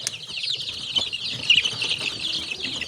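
Small chicks in a home setting, young birds recovering from diarrhoea, cheep in a continuous high-pitched chorus of overlapping peeps, fairly close and steady throughout with no talking.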